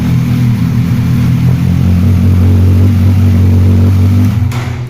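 A motorcycle fitted with an immobilizer starts and runs loud and steady at a low idle-like rumble, holding nearly constant before cutting off abruptly near the end.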